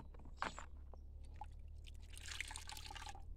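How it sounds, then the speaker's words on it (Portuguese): Water drains from grated cassava pulp into a basin in a rural kitchen. The trickle is faint and close, with a few soft drips, then swells into a broader splashing flow near the end. "E agora é só deixar escoar mais, né, a água."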